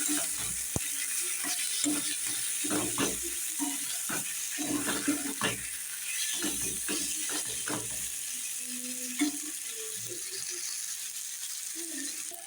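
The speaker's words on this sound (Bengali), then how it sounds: "এবার সমস্ত উপকরণগুলো আমি ভালো করে ভেজে নেব" Ghugni ingredients with chopped tomato frying in a pan, a steady sizzle running throughout with repeated stirring scrapes and clatters from a utensil close by.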